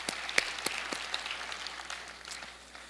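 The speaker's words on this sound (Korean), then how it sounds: "하나님께 영광의 박수 올리겠습니다." A church worship congregation gives a short round of applause, scattered hand claps that start crisp and sparse, then soften and fade within a few seconds.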